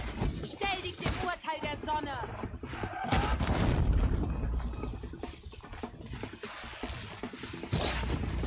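Rapid bursts of gunfire in Horizon Zero Dawn crackle through a busy, loud mix, with voices talking in German over the shots throughout.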